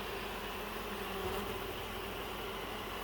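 Honey bees buzz around a hive outdoors, a continuous faint, even drone of many wings with no single insect standing out, steady for the whole stretch.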